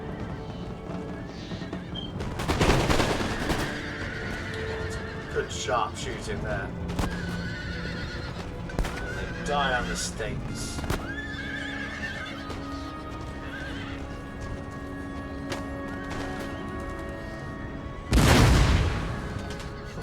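Cavalry horses neigh repeatedly and hooves clatter on a battlefield in the strategy game Empire Total War, mixed with booming artillery blasts and gunfire while someone speaks over the action.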